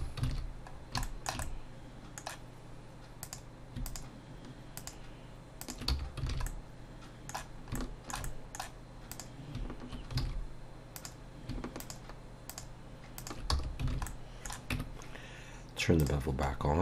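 Computer keyboard keys pressed in quick irregular bursts of close, crisp clicks while modeling a motion tracker in Blender, with a voice talking over the typing throughout.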